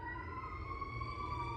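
Emergency vehicle siren wailing outdoors, a steady faint tone held at a distance across the whole moment, with no talking over it.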